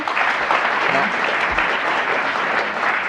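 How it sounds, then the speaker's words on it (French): TV studio audience applause on a 1991 French game show, dense continuous clapping from the crowd filling the whole stretch, loud and close. "monsieur Delbé vient de gagner 1000 francs et vos applaudissements."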